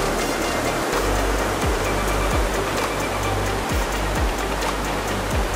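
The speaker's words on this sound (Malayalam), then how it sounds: "വെള്ളത്തിൻ്റെ ഒഴുക്കൊക്കെ നോക്കിയ" A river at Aruvippuram rushes steadily in a dense, unbroken wash of flowing water, close and loud, with a few low thumps from handling in the background and no talk.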